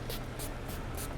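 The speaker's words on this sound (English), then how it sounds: "And then I never spray it right in the face," Four quick, soft hissing bursts of cologne sprayed from a pump bottle onto a dog at a self-service dog wash, evenly spaced and close by, over a faint background.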